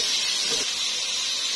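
Tomatoes frying in a pan for a Pakistani mixed vegetable dish, a steady, even sizzling hiss that stays loud and constant throughout, with no voices.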